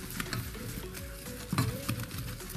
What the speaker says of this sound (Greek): Θα σβολιάσει στην αρχή, χαμηλώνουμε τη φωτιά και απλά ανακατεύουμε.